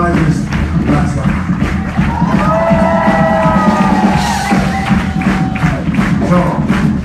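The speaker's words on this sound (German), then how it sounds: "Und ein ganz, ganz lauter Applaus, quasi noch ein Applaus für gestern dazu." A live concert crowd at a Leipzig show applauds and cheers loudly, a dense wash of clapping with whoops and a rising whistle, and a voice speaks over it.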